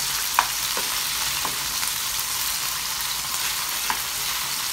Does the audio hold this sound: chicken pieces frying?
yes